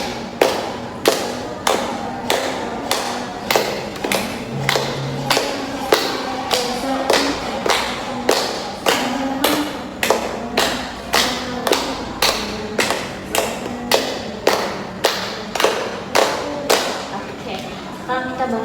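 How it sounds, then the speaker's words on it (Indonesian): Children clap their hands in unison in a steady, even rhythm of roughly two claps per second, about thirty claps in a row, with faint voices under the clapping. "Kita tepuk tangan 1,"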